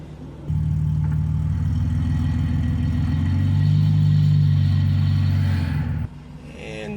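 BMW E46 with a swapped-in GM automatic, in drive with the rear wheels spinning, gives a steady low engine drone close by that swells midway, then cuts off after about six seconds.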